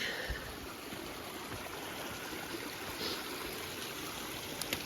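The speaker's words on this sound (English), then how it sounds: "This is already my second cute little creek." A small mountain creek in a forested Dolomite valley flows with a steady, close babbling trickle that stays even throughout, with no voices.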